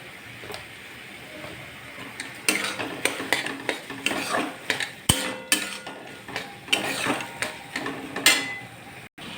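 Bottle gourd (lauki) curry stirred with sugar in a pan, a spoon scraping and clinking against the metal in a steady rhythm of close, distinct strokes, with a soft sizzle underneath.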